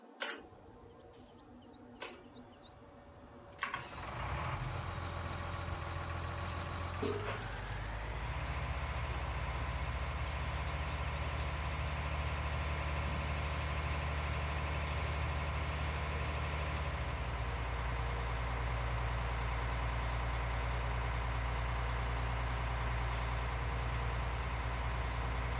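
A tractor engine idling in the video game Farming Simulator 19: after a few brief clicks and a start-up rise, a steady low droning hum settles in and runs evenly and continuously, with no speech.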